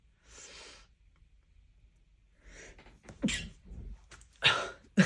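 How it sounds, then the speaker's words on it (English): A few sharp, close sneezes after breathy intakes, with quiet pauses in between. "ooh, I want to sneeze."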